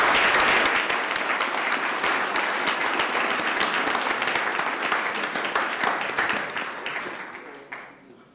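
An audience at a city council meeting applauds to honor a captain, with a dense, steady round of clapping that fills the room and slowly fades toward the end, while faint voices murmur underneath.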